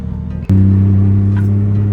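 A Toyota Cressida fitted with a 1JZ engine and an SAFC controller sits at a steady, loud high-rpm drone held against the rev limiter, kicking in abruptly after a short sharp click.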